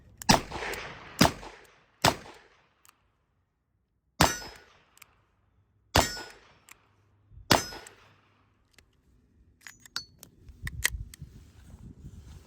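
A Colt Trooper .38 Special revolver fires six loud, sharp shots spaced about one to two seconds apart outdoors, first in double action and then in single action. Faint clicks and shuffling handling noise follow the last shot.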